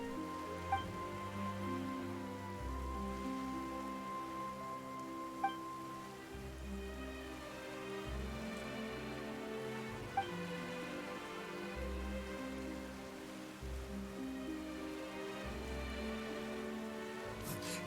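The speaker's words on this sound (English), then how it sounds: "Why is it raining all of a sudden?" Steady rainfall in the video game Genshin Impact, a soft continuous patter across the whole stretch, mixed with a layered musical score and a couple of faint sharp ticks, with no talking.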